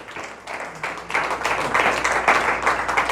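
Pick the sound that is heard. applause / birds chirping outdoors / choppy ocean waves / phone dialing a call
applause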